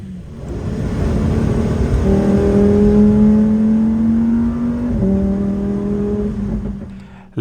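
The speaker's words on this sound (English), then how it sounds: "Listen to that V10 engine." A Lamborghini Huracán STO's V10 engine revs hard and close in Dubai, a loud, sustained, rising howl that climbs, dips briefly and climbs again before cutting off.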